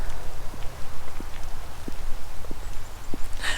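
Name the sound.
melting snow dripping off trees, sounding like rain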